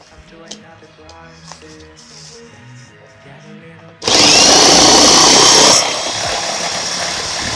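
An electric drill spinning a homemade spray can shaker roars up suddenly, loud and close, with a high whine for about two seconds before settling to a steady buzzing run; quieter clinks and music precede it.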